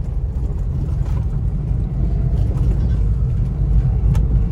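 A 2016 Maruti Swift Dzire with about 64,000 km runs its engine with a loud, steady low rumble as it pulls away through first and second gear, with brief surges and no speech.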